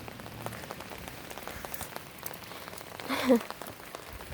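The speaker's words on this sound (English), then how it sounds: "it's really starting to rain" Rain falling outdoors, steady and soft, with a brief louder patter near the end.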